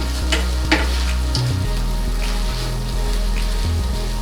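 Mexican rice with corn simmers and fries in tomato sauce in a pan, a steady close sizzle with soft bubbling pops and occasional stirring scrapes.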